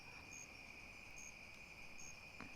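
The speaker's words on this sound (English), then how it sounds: "I hear crickets and peepers and squirrels." A steady, high-pitched drone of crickets and peepers hangs over a quiet outdoor backdrop, with faint higher chirps repeating roughly every second.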